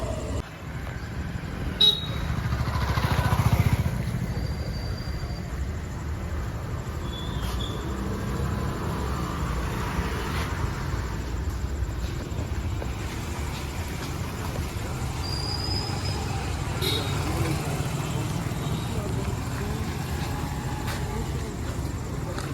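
An auto rickshaw drives along with a steady, low engine rumble that runs throughout, and faint horn toots pop up now and then.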